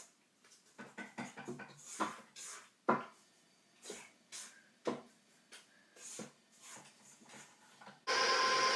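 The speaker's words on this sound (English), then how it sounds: "And then you want to also scrape the sides, so make sure it's all just combined in the middle." A spatula scrapes the sides of a mixing bowl of chocolate chip cookie dough, with a string of short scraping and knocking strokes in an irregular rhythm under a person talking.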